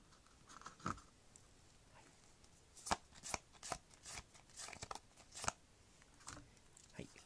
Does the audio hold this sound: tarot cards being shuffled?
yes